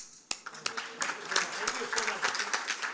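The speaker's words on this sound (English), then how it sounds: "whether you do it or not, I'll clap." Scattered clapping at an export awards function, starting with a few sharp isolated claps that build into sparse, uneven applause, fairly faint and mixed with light voices.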